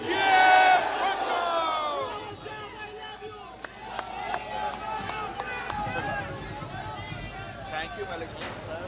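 A crowd at a Pakistan Peoples Party workers convention in Timergara chants Bhutto slogans, loud rhythmic massed voices swelling at first, then continuing with shouts and babble throughout.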